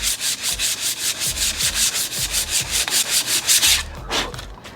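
A buffing wheel polishes the metal of a vintage Weber kettle grill in steady, rhythmic rubbing strokes, close and moderately loud with no voices.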